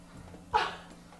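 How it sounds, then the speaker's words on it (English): A dog gives one short, sharp bark at mid distance, a lone burst rising over a quiet room hum with no talking around it. "Dog!"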